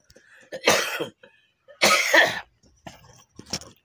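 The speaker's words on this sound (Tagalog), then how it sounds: "Ay, ubo." Two harsh, close coughing fits separated by a short pause, followed by a few softer throat sounds.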